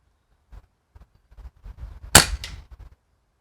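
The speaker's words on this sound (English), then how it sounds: "Just going to take a few sighter shots just to see where the pellet's going." A BRK Ghost air rifle fires pellet sighter shots: one sharp, loud crack rings out, followed by a second quieter report a moment later, with small handling clicks and knocks before them.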